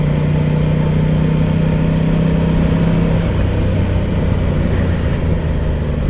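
Aprilia Tuono 660 Factory motorcycle engine running steadily in second gear at about 29 mph, a continuous close drone with a steady low hum that shifts slightly partway through, with no talk.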